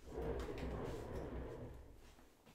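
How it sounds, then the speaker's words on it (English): Plastic storage boxes with pull-out paper drawers are slid open, giving a steady scraping rumble that lasts about two seconds and then fades, close by with no talking. "So we've got drawers here that pull out."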